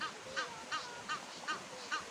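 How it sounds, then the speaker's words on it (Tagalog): A duck-like bird calls in a steady series of five honking quacks, evenly spaced about every few tenths of a second, moderately near. "Ari ang ining pato."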